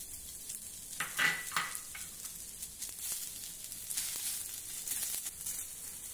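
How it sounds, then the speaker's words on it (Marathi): A large onion dry-roasting on a tava griddle without oil over a medium-high gas flame, a steady soft sizzle broken by scraping stirs that come in irregular bursts, close and moderately quiet. "त्यानंतर तव्यावर 1 मोठ्या आकाराचा कांदा घालूया।"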